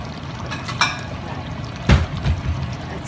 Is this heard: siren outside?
no